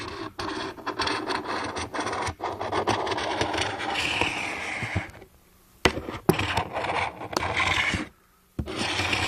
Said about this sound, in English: I'm just taking my scraper that I used to drop the TEX onto, and I'm just dragging it down the length of the ski.